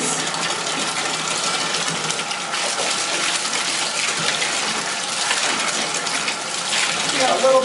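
Running water from a bath faucet pouring into a filling bathtub, a continuous close gushing splash that stays steady and grows slightly louder near the end.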